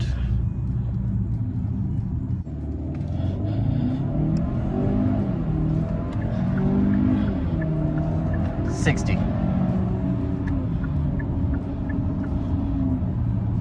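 A 2023 Hyundai Santa Cruz pickup accelerates hard from 0 to 60 in sport mode, its engine rumble climbing through rising gear pulls heard from inside the cab, loud and steady.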